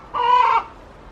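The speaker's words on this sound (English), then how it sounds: "Can you hear the chicken?" A single close chicken call in a garden during summer apple tree pruning, one clear drawn-out cluck lasting about half a second over quiet outdoor background.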